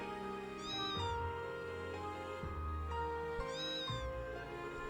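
Two cartoonish cat meows from a small cat hiding behind a wooden box in the video game Trails of Cold Steel III, the second about three seconds after the first, over a steady game music background with no talk.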